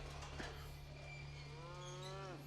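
A cow moos in a scene from the Jurassic Park film, one drawn-out rising and falling low call near the end, over a steady electrical hum and quiet background.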